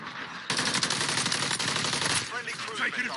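Loud, sustained automatic gunfire from Call of Duty online multiplayer: a dense, rattling burst of about two seconds, then quieter battle noise.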